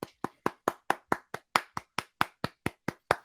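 A single person claps hands alone in a slow, even rhythm, about fifteen crisp, close claps with silent gaps between them and no talking.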